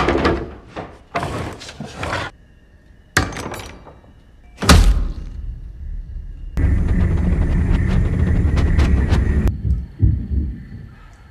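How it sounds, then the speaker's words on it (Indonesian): Nails hammered into wooden boards over a house's front door: a series of heavy, irregular thunks and knocks, then a sustained rough noise for a few seconds before a final thud, close and loud, with no talk. "Sementara untuk Blake, ia akan menutup rapat pintu depan menggunakan papan kayu dan paku yang ada di rumah tersebut."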